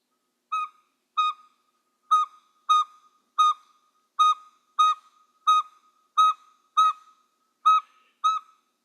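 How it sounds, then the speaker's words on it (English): Male Northern Saw-whet Owl song plays as a monotonous series of clear, whistle-like single toots, about a dozen evenly spaced notes repeating roughly every half second, crisp and isolated against silence. "play you an example of the Saw-whet Owls song. It's kind of monotonous, at least the male song, and it sounds like somebody whistling."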